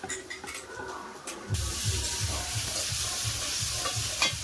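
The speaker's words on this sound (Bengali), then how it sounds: "আলু আর পেঁয়াজ তো দুটো একসঙ্গে ভাজা হয়ে গিয়েছে" Potatoes and onions frying together in a pan for soya chunk curry, a steady hiss and sizzle that jumps louder partway through, with faint stirring scrapes and no voices.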